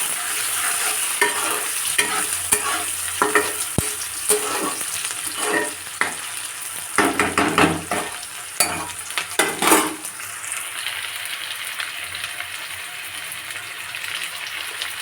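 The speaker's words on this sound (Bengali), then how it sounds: "তো কড়াইতে কাঁচা লঙ্কা পেঁয়াজ আর লসুনটাও দিয়ে দিয়েছি" Green chilies, onion and garlic fry in a wok with a continuous sizzle, broken up by a series of sharp stirring scrapes that bunch together midway and then thin out, leaving the sizzle alone near the end.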